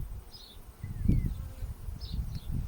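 Steady low buzzing of many honey bees at a hive in Kaihere, New Zealand, swells and pulses close by, with a few brief higher chirps drifting over the drone.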